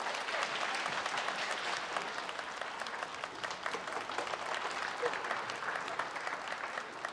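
Steady, dense applause from a theatre audience welcoming two crosstalk comedians onto the stage at a Tianjin memorial benefit show, sustained and even throughout with no talk over it.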